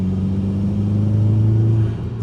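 A Subaru STI engine hums with a steady low drone from inside the car, rising slightly in pitch before easing off.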